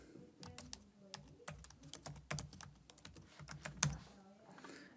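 Rapid, uneven clicking of computer keys as a domain name is typed, close and clear with short bursts and pauses, no voices.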